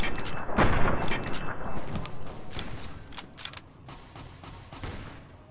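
Gunfire crackles during a fight in Fallout New Vegas, a burst of sharp shots near the start followed by scattered, fainter reports and thuds trailing off.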